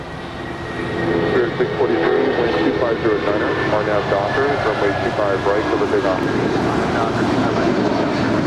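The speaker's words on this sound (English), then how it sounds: "That was United Airlines Flight 2259 headed to Newark, and that's 757-200" A United Airlines Boeing 757-200 jet rumbles loudly and steadily at Los Angeles International Airport, its engine roar building after the first second and holding at a constant level, with faint voices mixed underneath.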